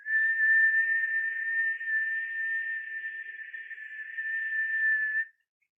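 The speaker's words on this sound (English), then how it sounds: "we exhale through a whistle-shaped mouth." A long, steady whistling exhale through a small O-shaped mouth during a kundalini yoga breathing exercise, one continuous clear tone lasting about five seconds, close and fairly loud, then silence.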